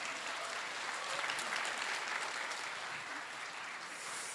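An audience at a political policy talk gives a congressman a steady round of applause. The dense, even clapping sounds somewhat distant and holds throughout with no voices over it.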